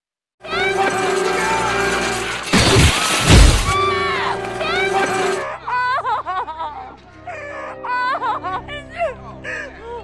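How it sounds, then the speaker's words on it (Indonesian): A large glass pane drops and shatters in a Final Destination film scene, a loud crash with bright splintering under film music, followed by voices and laughter. "sengaja menekan tombol pada alatnya sehingga melepaskan kaca yang besar di atas Tim dan menimpanya hingga dia tewas."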